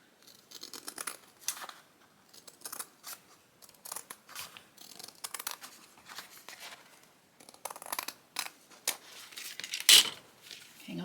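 Scissors cutting material for a handmade hardcover journal cover, a series of close crisp snips in irregular bursts with pauses between, fairly quiet, no talk.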